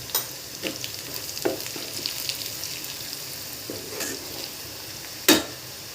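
Coarsely chopped garlic and ginger frying in a pan for egg bhurji, a constant soft sizzle broken by a few sharp spatula scrapes and clinks, close by with no one talking.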